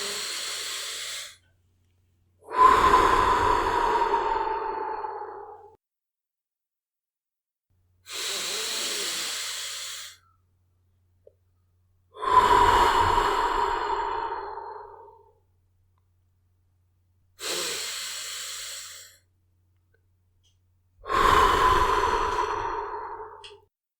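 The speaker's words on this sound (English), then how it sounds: "Let's do 3 breaths right now." Slow, calm breaths in a children's guided meditation: three long exhales with soft, hissing sighs, each followed by a pause, close and unhurried with no talking.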